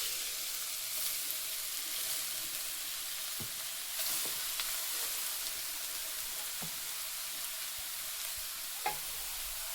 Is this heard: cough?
no